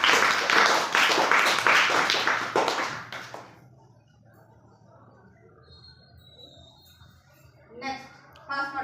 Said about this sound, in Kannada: ಚಪ್ಪಾಳೆ ಹಾಕಂಗ